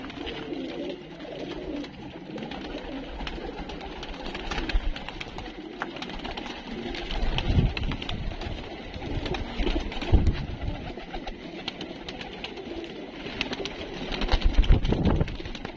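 Many pigeons coo continuously at a pigeon shop, a dense layered chorus with occasional thumps and wing flutters.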